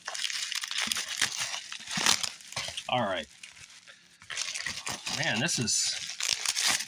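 Packaging crinkles, tears and crunches as it is cut open with scissors, a steady run of close rustling and snipping broken by a short pause, with someone talking over it.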